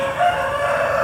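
Nearby, a rooster lets out a brief, loud crow with a steady, harmonic-rich tone that wavers slightly over about a second, alone, without any voices.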